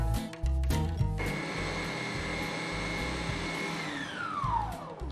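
An ice cream machine whirring steadily as it churns a frozen sago and milk mixture, a loud motor drone with a faint mechanical knock and a tone that sweeps downward near the end.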